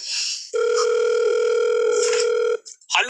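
A telephone gives off one long steady electronic tone for about two seconds, loud and close, with brief bits of voices just before and after it.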